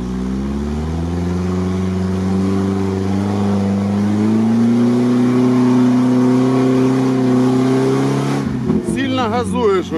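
A UAZ off-road vehicle running on armored-personnel-carrier wheels revs its engine loud and close, the tone climbing and holding steadily before cutting off as people talk over the end.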